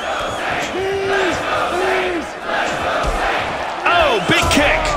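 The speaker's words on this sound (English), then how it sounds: "The crowd now chanting for the Saint." A large arena crowd in UFC Undisputed 3 roars and chants in rising, rhythmic swells, loud and close, with a commentator's voice layered over the chant.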